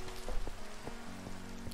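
Heavy rain in Minecraft hisses steadily with scattered pattering drops, a dense, moderately loud wash heard alone.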